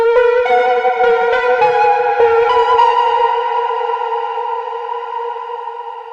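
A synth run through Valhalla Shimmer reverb and RC20 distortion rings as a sustained, bright chord-like tone. Its stacked harmonics bloom with shimmering echo and slowly fade over several seconds, with no voices.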